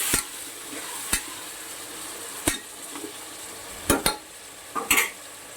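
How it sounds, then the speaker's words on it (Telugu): Chicken frying in a pan for chicken biryani with curry leaves and coriander, a steady soft sizzle broken by several sharp scraping strokes of a spoon stirring against the pan. "చికెన్ ఫ్రై అవుతుంది."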